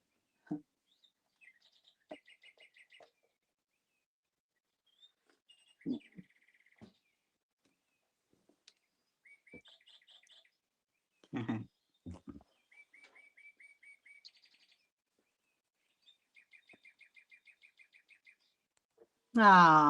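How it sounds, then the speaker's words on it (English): A cuckoo clock sounds its mechanical bird call indoors, a series of bright repeated chirping notes spread across the stretch, each group short and clipped, with quiet gaps between them and a louder burst at the very end. "So that is not a real that's not a real bird. That is my cuckoo clock."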